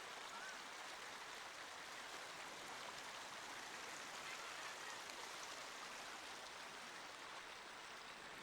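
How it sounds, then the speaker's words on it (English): A flowing stream in Hyde Park, London, where children can paddle, runs with a continuous, soft, even rush of water and no talk. "flowing streams."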